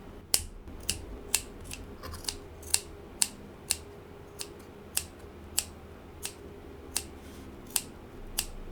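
Scissors snip strings for a braided craft in a steady run of about twenty crisp, close cuts at a brisk, even pace, with no talking.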